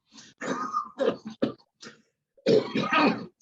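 A person coughs and clears their throat in a series of harsh, close bursts, a cluster of short coughs followed by a longer run of heavier ones after a brief pause.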